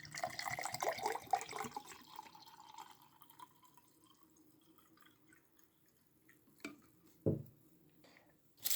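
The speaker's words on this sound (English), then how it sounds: "And then let's add around 250 milliliters of water." Water is poured into an MRE ration pouch, a splashing trickle at the start that thins to quiet drips, followed by a few sharp handling clicks and knocks.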